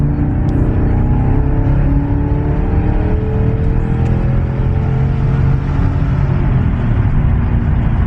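Car engine droning steadily and loudly at close range from inside the vehicle as it drives around a turn, with rumbling low-end road noise and slowly shifting engine tones throughout.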